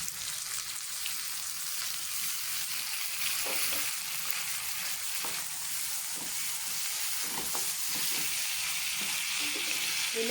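Chicken fried rice, seasoned with pepper, soy sauce and vinegar, hisses with a dense steady sizzle in a hot pan while a spoon scrapes and clicks through it in repeated stirring strokes.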